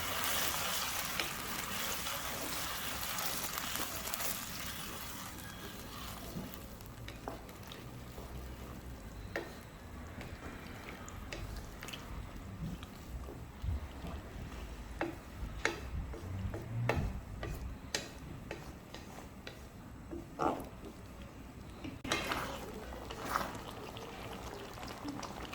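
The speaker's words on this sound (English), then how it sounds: "Keep stirring." Chicken Manchurian sauce is stirred in a frying pan, giving a soft, steady sizzle with small clicks and scrapes of the spoon against the pan, quiet and close, with no voices.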